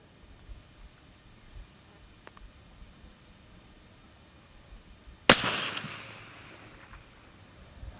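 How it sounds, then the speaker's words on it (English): A single sharp rifle shot cracks out close by at a long-range target, followed by a short decaying echo, with quiet outdoor ambience before and after. "Now I'm firing."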